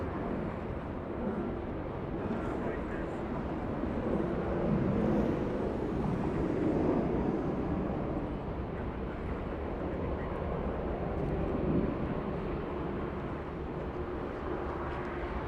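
Jet airliner on final approach into Los Angeles International Airport, a steady broad engine roar that swells slightly midway and holds at moderate distance with no talk.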